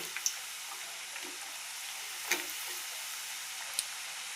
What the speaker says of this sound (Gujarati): સરસ આપણા બ્રાઉન તળીને તૈયાર થઈ ગયા છે મુઠિયા.